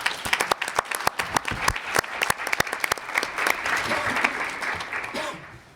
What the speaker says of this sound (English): deserve a round of applause for an excellent contribution